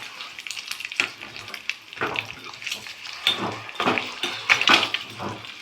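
Egg karam fries in a hot pan, a close crackling sizzle with irregular bursts and scraping stirs that rise and fall throughout.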